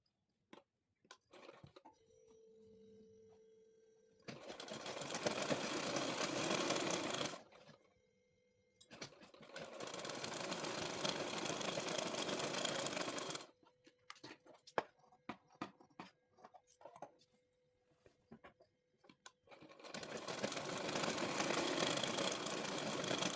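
A sewing machine runs in three bursts of steady, whirring stitching as it sews the side seam of a pair of palazzo pants, with quiet pauses and small handling clicks between the runs.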